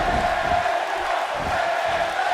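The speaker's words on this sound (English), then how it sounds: "the crowd here tonight in St. Louis, they want some Bayley" Arena crowd in a WWE wrestling video game at a St. Louis Raw show, a steady, dense roar of cheering that runs unbroken for the whole stretch with no commentary over it.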